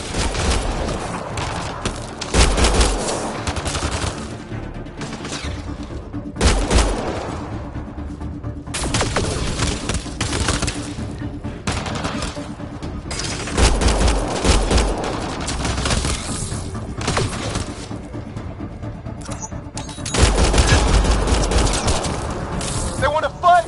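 Sustained firefight in the sci-fi shooter Mass Effect Andromeda, loud rapid bursts of weapon fire in repeated clusters with heavy low thumps, mixed with combat chatter and voices throughout.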